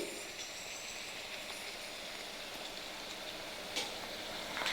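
Puris frying in hot oil make a soft, steady sizzle and bubbling, faint and continuous with no talk.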